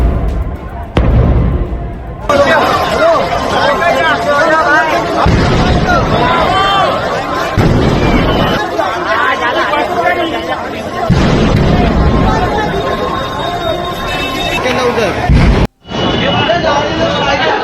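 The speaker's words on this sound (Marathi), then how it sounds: "स्फोट सुद्धा मोठ्या आवाजात ऐकू येत आहे" Several heavy gas cylinder explosions burst out in Dharavi, Mumbai, over constant crowd chatter and shouting, with a loud roar of fire filling the background throughout.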